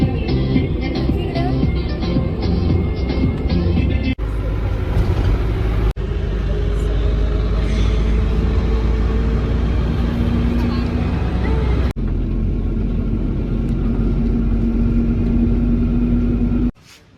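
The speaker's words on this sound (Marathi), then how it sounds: "this is our tempo traveller" Tempo Traveller van driving along a road, a constant low rumbling engine and tyre drone with a faint steady whine, interrupted by a few abrupt cuts.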